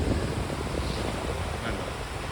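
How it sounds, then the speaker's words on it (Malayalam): Sea waves washing steadily onto a beach with hard-packed sand, a continuous broadband surf roar with some wind noise, close and even with no talking. "തിരയടിച്ച് തിരയടിച്ച് വന്നുകൊണ്ടേ ഇരിക്കും"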